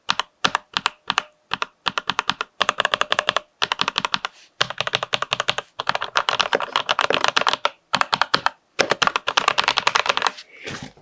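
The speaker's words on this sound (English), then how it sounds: "the keys in the middle have a little bit more of a spring sound to them" Rapid typing on a springy-keyed gaming keyboard, close and crisp, with bursts of clustered clicks separated by brief pauses.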